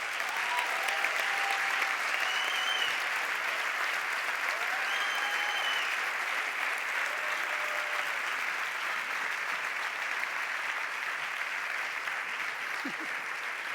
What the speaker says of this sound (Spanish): lo podemos aplaudir como se merece